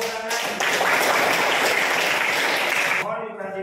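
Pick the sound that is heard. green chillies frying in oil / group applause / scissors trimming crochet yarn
group applause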